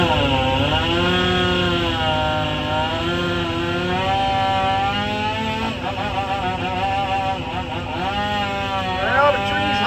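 A chainsaw runs steadily while cutting a hollow tree near buildings, its engine droning loud and close and bogging and revving as the bar bites into the wood, with brief dips in pitch.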